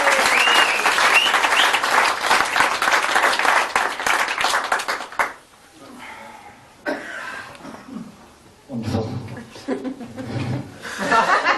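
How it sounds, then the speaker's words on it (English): Loud audience applause with some laughter fills a hypnosis comedy stage show as a volunteer returns to his seat, fading after about five seconds into scattered laughs, murmurs and talk. "give him a huge round of applause"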